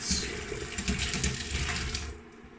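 Water from cooked turnip pours out of a pot into a sink as it is drained, a steady splashing gush with a faint clinking rattle that cuts off abruptly near the end.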